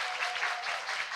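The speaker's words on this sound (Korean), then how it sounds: "여러분 큰 박수로 모시겠습니다" Audience applause rings out at a live talk event as speakers, an author and a labor attorney, are welcomed on stage, a brief, dense burst of clapping heard alone.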